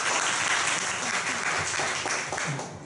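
An audience at a Taichung self-introduction meetup claps warmly to welcome the next speaker, a steady, close burst of many hands that tapers slightly near the end.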